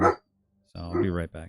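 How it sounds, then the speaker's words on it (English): A pet dog barks in a home: one short bark, then a longer bark right after a man's brief spoken remark, the voice and barking close together and fairly loud. "You can hear him barking."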